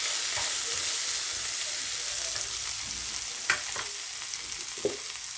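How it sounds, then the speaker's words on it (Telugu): Snake gourd frying for chicukudukaya vepudu in a pan, a soft, steady sizzle with a couple of faint stirring clicks, close but fairly quiet, without any talking. "ఇప్పుడు మూత తీసి చూడండి చక్కగా ఫ్రై అవుతుంది అనమాట."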